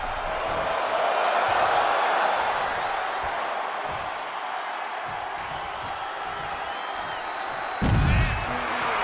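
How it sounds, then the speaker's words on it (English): Wrestling arena crowd roaring in a deafening, sustained wash of cheers and whoops, with a commentator talking over it and a sharp thud of a slam near the end. "The sound of this crowd is deafening, and he's asking for more."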